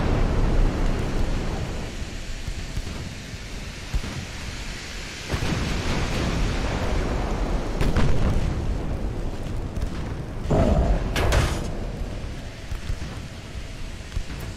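Heavy battleship gunfire and shell impacts in the naval video game Ultimate Admiral: Dreadnoughts, with 12-inch, 7-inch, 3-inch and 2-inch guns: deep rumbling booms and sharp crashes over continuous low roaring, several distinct blasts spread across the stretch.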